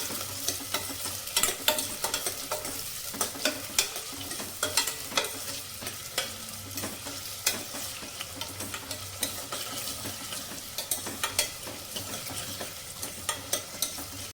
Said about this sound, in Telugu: ఆనియన్స్ని గోల్డెన్ బ్రౌన్ వచ్చేదాకా ఫ్రై చేసుకుందాం